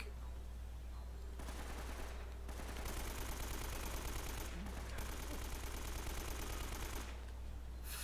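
Automatic gunfire in Uncharted: Drake's Fortune: long, rapid bursts of machine-gun fire separated by brief pauses, steady and fairly loud, with voices faintly mixed in.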